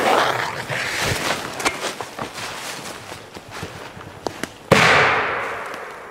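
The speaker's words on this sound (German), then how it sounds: "Komet, kubischer Kanonenschlag" A Komet cubic cannon-salute firecracker sets off a single sharp, loud bang that rings out and decays, preceded by scattered crackles and pops from other fireworks nearby.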